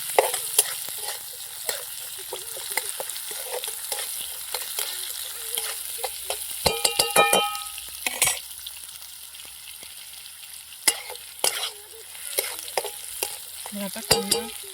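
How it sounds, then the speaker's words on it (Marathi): Chopped onion sautés in a pan until lightly reddish for a tomato chutney, a soft steady sizzle broken by clinks and scrapes of stirring, with a few louder knocks midway. "थोडंसं लालसर होईपर्यंत आपण एक कांदा आहे ना परतून घेऊया."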